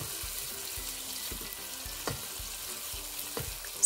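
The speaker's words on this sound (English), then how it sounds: "Sauté the onions until they start to appear transparent." Onions sautéing in a pot with meat juices and fat for meatball pilaf, a soft steady sizzle with a few faint knocks and stirs.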